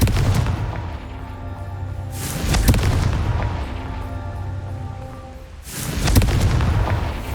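Confringo fire spell blasts in Hogwarts Legacy: deep, booming explosions with long rumbling tails, a big one near the start, another mid-clip and a third later, loud and close with no talk.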